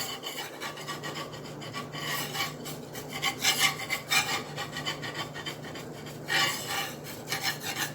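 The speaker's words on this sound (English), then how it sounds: "I'm going to take a spatula to lift this up." A spatula scrapes and slides under a gluten-free sweet potato flatbread in a pan, giving a steady run of close, raspy scraping strokes that swell and fade over several seconds without speech.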